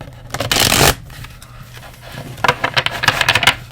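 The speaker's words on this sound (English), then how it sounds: "let's pull those tarot cards" Tarot cards being shuffled by hand: a loud riffling burst at first, then quieter handling, then a second run of rapid close flicks and taps, with no talking.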